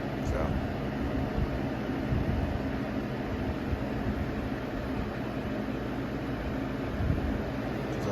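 A Holmes HABF-25 box fan from the 2000s hums steadily on its low setting with a running air conditioner, making a constant broadband whoosh of air noise with no talking.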